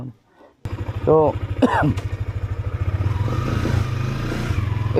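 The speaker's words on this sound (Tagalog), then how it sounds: "itong motor ko naman ay" A motorcycle engine idles close by with a steady low pulsing rhythm, heard while someone speaks over it.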